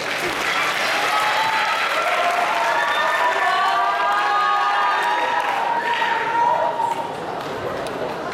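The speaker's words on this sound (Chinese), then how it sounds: "掌声鼓励一下。" Audience applause fills the room after a performance of a Kojo no Tsuki variation, steady sustained clapping with some cheering throughout, loud and continuous before easing slightly at the end.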